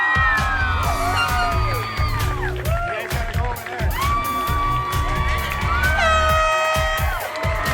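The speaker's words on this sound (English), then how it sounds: "Air horns for the front office." A loud crowd at a hotel opening cheers and whoops while air horns blare in long sweeping blasts, with a sustained horn burst near the end.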